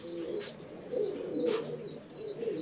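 Domestic pigeons in a loft give soft, continuous low cooing with faint higher chirps over it. The sound carries steadily throughout, with no talk.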